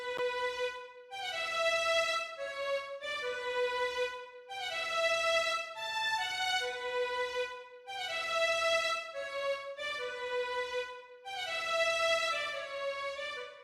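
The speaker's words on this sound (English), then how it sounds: "I'll go ahead and play the pattern so you can hear what it sounds like without any effects" Dry orchestral staccato strings programmed in FL Studio with no effects play a repeating short-note melodic pattern. Bright, even and fairly quiet, in four phrases with brief gaps between them, and no voices.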